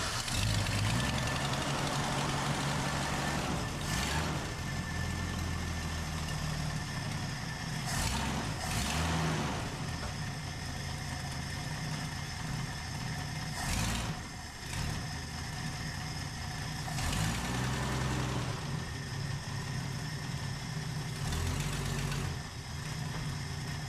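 A freshly overhauled classic engine runs steadily at idle with a low, rough rumble and faint knocking, loud and continuous for the whole stretch with brief dips in the drone.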